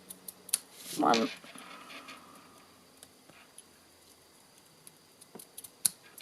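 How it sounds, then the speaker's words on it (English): Scissors snip ribbon at an angle while decorating a felt stocking card: a short, fairly close cut near the start, then faint handling noises while someone talks. "And then just trim my ribbon at an angle."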